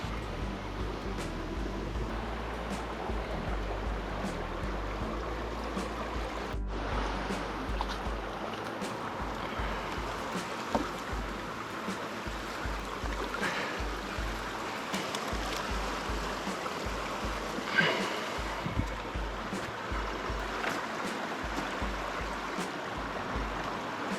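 River water flows steadily with a constant broadband rush, close and continuous for the whole stretch, with occasional small splashes and no talk.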